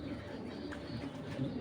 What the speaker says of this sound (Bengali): আমি কবুতর দুটা দেখাই দিচ্ছি আপনাদের, দেখেন কবুতরগুলো মাশাআল্লাহ অনেক সুন্দর